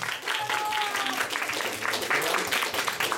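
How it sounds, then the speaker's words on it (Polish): An audience at a children's talent show applauds a young girl with warm, continuous clapping from many hands. A short whistle-like tone sounds early, and some voices are faint beneath it. "wielkie brawa dla Irenki"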